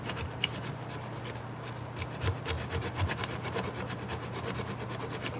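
A dull drill bit grinds into wood with a rapid rhythmic rasping and rubbing, steady strokes close by with a low motor hum underneath and no voices.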